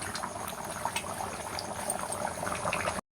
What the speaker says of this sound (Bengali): এ দেখো মাংস এখানে টক গিয়ে ফুটছে